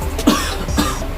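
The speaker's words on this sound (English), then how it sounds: "Breathe in and then cough." A person gives two short, forceful coughs during a controlled deep breathing and coughing exercise, close and clear with no talking.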